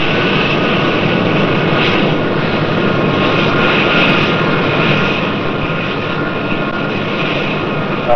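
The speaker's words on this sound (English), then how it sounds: "Concorde, ici Blagnac Airport, autorisé décoller, piste 33 gauche." The Concorde prototype 001 jet airliner roars without letup at full power as it takes off from Blagnac Airport, a loud, dense jet noise that holds steady throughout.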